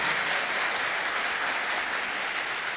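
A studio audience at a televised school quiz show between Lycée Pétion and Collège Catherine Flon claps loudly and continuously in a dense, unbroken wash of applause.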